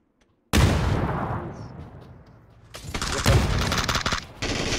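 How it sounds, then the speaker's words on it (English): Gunfire in a shooter video game: a loud burst of rapid shots opens, tapers off, then a second heavy volley of automatic fire returns and keeps going. "Shooting, good shooting, man."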